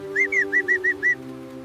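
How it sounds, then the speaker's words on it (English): Cartoon duckling chirps excitedly in a quick run of six bright, evenly spaced tweets over a steady low hum, with no talking. "Chirp, chirp, chirping excitedly."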